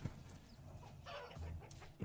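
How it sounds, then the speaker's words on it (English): Chickens and roosters in the video game Vintage Story give soft, sparse clucks over a quiet outdoor background, ending on a louder bump. "Hello, roosters, chickens."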